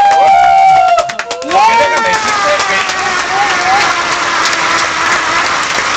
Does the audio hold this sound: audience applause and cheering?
yes